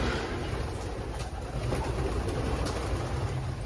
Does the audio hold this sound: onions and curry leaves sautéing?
no